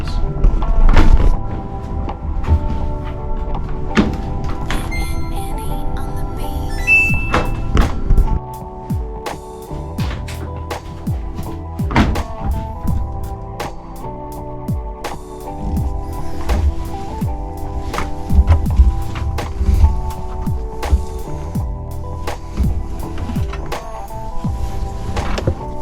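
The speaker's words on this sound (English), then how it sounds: "seeing if they can survive the washer. The washer for 30 minutes." A washing machine tumbles graded trading card cases, PSA, SGC, CSG and Beckett slabs, producing a steady mechanical hum under repeated hard plastic knocks and clatters that recur irregularly for the whole stretch.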